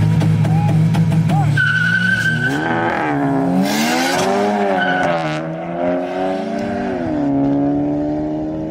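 A Honda Civic Si Turbo and a stage 2 VW Jetta GLI launch side by side from a standstill at a drag race, engines rising loud through the gears with rising harmonic tones and brief tire chirp, close and alone.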